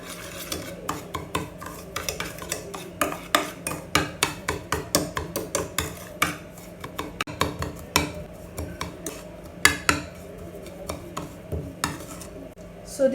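A spoon stirs a small batch of honey and lemon lip scrub in a little dish, producing repeated clinking scrapes in a fairly steady rhythm, close and distinct with no talk.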